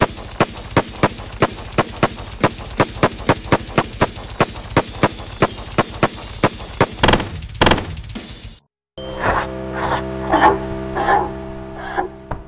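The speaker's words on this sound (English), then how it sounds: "Weapons are all distinct and sound satisfying to use." Weapon gunfire in the video game Cruelty Squad: a long run of sharp, evenly spaced shots, then a heavier burst and a short pause, followed by scattered impacts over a humming background.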